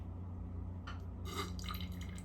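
Concentrated sulfuric acid is poured through a funnel into a beaker, heard as short splashy trickling bursts over a steady background hum.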